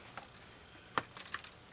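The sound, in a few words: keys jangling on a motorcycle battery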